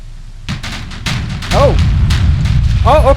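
Automatic naval guns in the game Victory at Sea Pacific fire a rapid series of loud booms and bursts, with whistling tones rising and falling between the shots.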